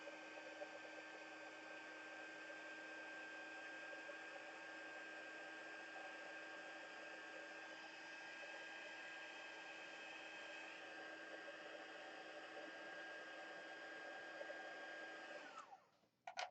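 A heat tool blows continuously while silver embossing powder is heat-set, a steady whirring hair-dryer-like roar with a thin whine that holds nearly the whole time before cutting off abruptly near the end.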